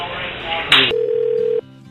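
Telephone tones on a radio call-in show: a steady single-pitched tone rings out for under a second right after a short burst of speech and line noise.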